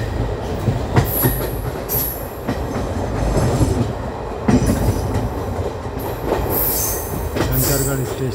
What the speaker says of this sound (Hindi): शंकरगढ़ स्टेशन में प्रवेश करने वाली ट्रेन